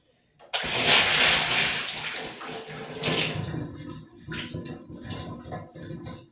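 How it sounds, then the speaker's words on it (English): A drain opens and water gushes away in a loud, close rush that tapers off. Gurgling surges and bursts follow as the water drains out. "Y'all hear that drain open up?"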